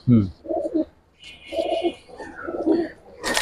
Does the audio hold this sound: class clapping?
no